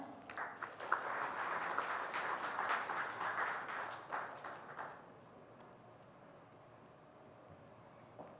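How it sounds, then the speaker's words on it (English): An audience at a business conference session in India applauds a guest economist with steady, dense clapping that fades out after about five seconds, leaving quiet room tone. "could we please welcome Dr. Singh with a big round of applause"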